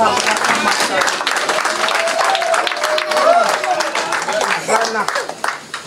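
Church congregation applauding, a dense burst of clapping mixed with cheering voices and a speaker over the crowd.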